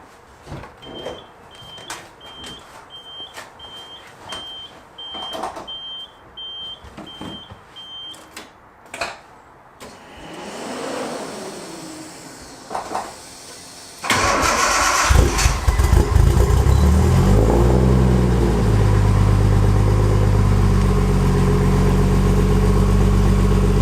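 A Nissan 240SX S14 with an RB25DET engine cranks over several times in short bursts, then catches and roars to life, settling into a loud, steady idle close by in a garage.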